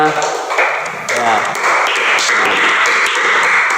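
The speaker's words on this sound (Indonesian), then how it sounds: "Ya, tepuk tangan buat kalian semua." Applause from a group gathered for an emotional-expression activity: a burst of clapping that starts about a second in and keeps up steadily, loud and close, with a voice over it.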